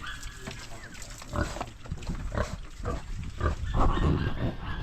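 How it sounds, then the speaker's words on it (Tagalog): Piglets of a new breed grunt and squeal close by on a farm, a run of irregular short snorts and oinks at moderate volume over low background rumble. "Gawa ng baboy."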